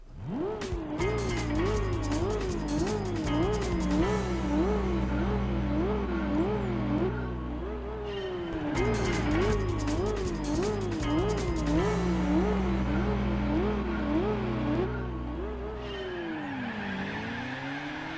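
A car in Gran Turismo 4 revs hard through repeated gear shifts, its engine note climbing and dropping in waves, while tires squeal and skid through corners, loud and continuous for the whole stretch.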